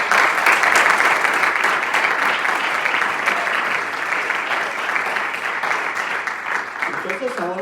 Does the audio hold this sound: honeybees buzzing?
no